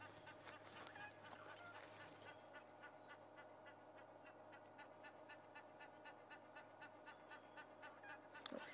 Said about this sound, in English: what's upsetting you today, Goose?